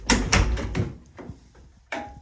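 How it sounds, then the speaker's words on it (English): A hotel bathroom door in a Comfort Suites is pushed shut, giving a few close thumps and a latch click, followed by a sharper knock near the end in a quiet room. "All right, I'm gonna close the door."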